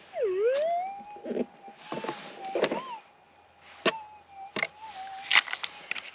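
A Minelab GPX 6000 metal detector, swept while nugget hunting, gives a steady electronic threshold tone that warbles and rises in pitch as it signals targets, with several scraping, clicking handling noises throughout.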